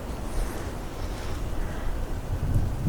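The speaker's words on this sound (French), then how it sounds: "Le vent se lève." Steady, breathy wind noise blowing across the microphone, rumbling low and swelling slightly toward the end, with no voices.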